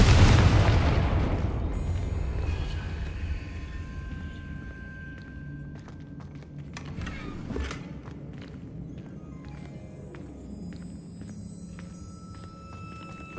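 A Confringo spell explodes in Hogwarts Legacy with one loud, deep boom at the start that rumbles and fades, followed by quieter footsteps and small game sounds.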